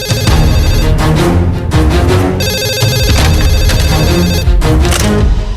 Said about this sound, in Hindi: फोन उठा ले, देख ले कौन है।